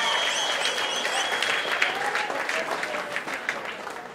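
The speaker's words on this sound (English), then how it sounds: "Give yourselves a round of applause." An audience at a #JoinUsForTEA event gives itself a round of applause: sustained crowd clapping filling the whole stretch, with a few voices and a faint whistle-like tone mixed in.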